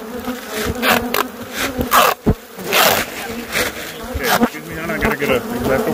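Swarm of Africanized killer bees in Arizona buzzing loudly and close, a dense, fluctuating hum that swells and dips throughout, with scattered bumps and rustles near the microphone.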